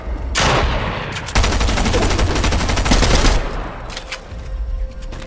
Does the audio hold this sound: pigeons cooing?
no